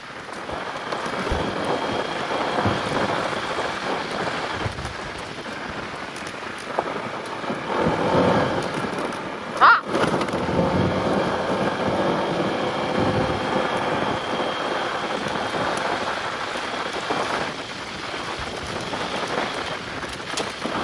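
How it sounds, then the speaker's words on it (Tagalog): Heavy rain pouring steadily at Masanga Point in General Nakar, Quezon Province, a dense continuous hiss with a sharp crack of thunder midway and no voices. "Papunta tayo ng ulan."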